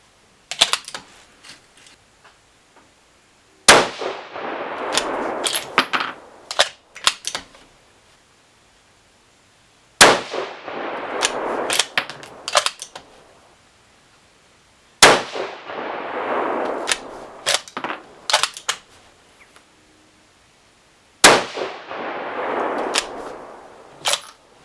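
Rifle shots from a 6mm Creedmoor loaded with Berger 108 BT bullets and H4831 SC powder, five sharp loud cracks spaced several seconds apart, each trailed by a rolling echo, with faint clicks and handling noises in the gaps.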